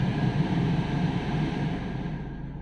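A 2021 Tata Tiago car idles with the air conditioning on, heard from inside as a steady low hum and even drone that stays level and fades slightly at the end, with no voices.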